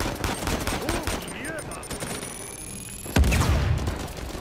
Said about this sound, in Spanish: ¿En serio me estáis disparando desde atrás?